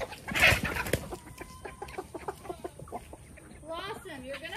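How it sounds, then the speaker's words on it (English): A chicken clucks nearby in short, repeated bursts and rising squawks, with a voice speaking in between and a sharp rustle at the start. "you're gonna hurt the chicken"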